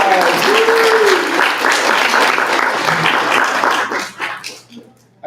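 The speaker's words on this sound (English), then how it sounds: "just give yourselves a round of applause" Loud audience applause at a spirituality expo, dense clapping with a few whoops and voices mixed in, fading out over the last second.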